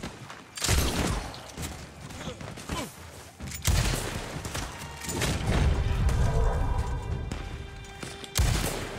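Gunfire in the online western shooter Red Dead Online, including a shotgun, with sharp repeated blasts and heavy thumps scattered across the span, some close and loud, over game ambience and faint talk.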